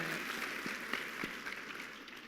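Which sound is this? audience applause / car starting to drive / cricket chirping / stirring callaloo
audience applause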